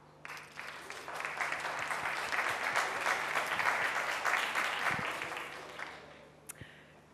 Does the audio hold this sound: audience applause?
yes